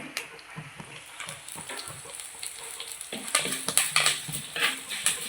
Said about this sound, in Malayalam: ഉണക്കമുളകും കറിവേപ്പിലയും കൂടി ഇട്ട് കൊടുത്തിട്ടുണ്ട്